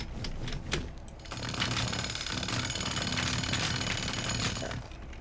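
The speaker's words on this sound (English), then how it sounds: "Let's try the jackhammer." A jackhammer in the video game Teardown rattles continuously with a fast, dense mechanical hammering that starts after a few sharp hits and stays loud throughout.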